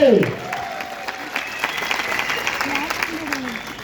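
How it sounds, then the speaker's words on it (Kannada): An audience claps at a Modicare product launch event, a moderate sustained round of applause under someone talking over it. "ಸೂಪರ್ ಚಪ್ಪಾಳೆ"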